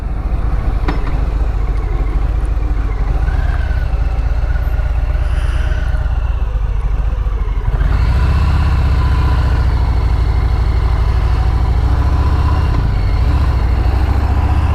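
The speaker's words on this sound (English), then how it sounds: "It's a Harley. It's clunky. It's got that mechanical clunk clunk shifting with the new motor" A Harley motorcycle with a new motor runs steadily and close, a continuous low engine rumble that thickens and grows louder about halfway through, with no distinct clunks of shifting standing out.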